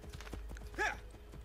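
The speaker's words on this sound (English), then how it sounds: "Now you can actually take horses inside cities in these new games." Horse hooves clip-clopping through a city street in the video game Assassin's Creed Brotherhood, a quick run of soft, fairly close steps with a brief whinny-like cry in the middle.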